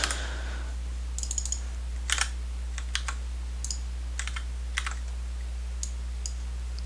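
Typing on a computer keyboard while editing a code file during a programming lesson: scattered bursts of clicky keystrokes, fairly close, with pauses between short runs, over a steady low hum and no talking.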